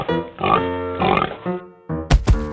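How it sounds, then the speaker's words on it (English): Several short oinks and grunts from a cartoon pig in a 3D animal slide game, moderately loud and close, ending in a couple of sharp squealing snorts, with no talk over them. "pig,"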